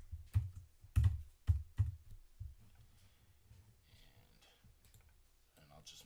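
A handful of sharp, hollow keystrokes on a computer keyboard in quick succession, close and fairly quiet, then fading to softer scattered clicks.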